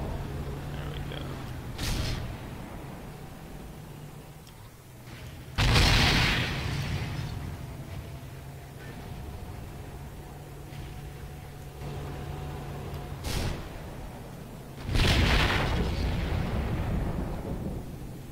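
Heavy tank cannon shots from a Chaffee light tank in a video game, four loud booming blasts spaced several seconds apart over a low idling engine rumble.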